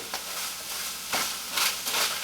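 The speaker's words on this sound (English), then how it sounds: "it sounds like it is frying a little too fast" Ground beef sizzling and frying in a pan a little too fast, a close, steady hiss that surges in a few louder bursts as it is stirred.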